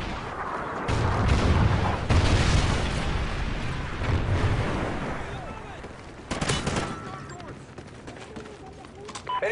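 Trinity rocket strike explosions in the Call of Duty Ghosts video game, loud booming blasts and rumbling bursts that roll through several seconds with sharp renewed impacts near the end, under in-game voice callouts.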